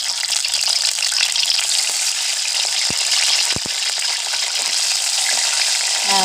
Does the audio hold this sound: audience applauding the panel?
no